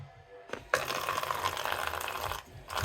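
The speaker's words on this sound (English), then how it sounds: "Now we're here, we're gonna fill it with water." Water running into a bowl for a homemade water squishy craft, a steady splashing fill with a sharp start and a brief pause near the end, close and fairly loud with no talking.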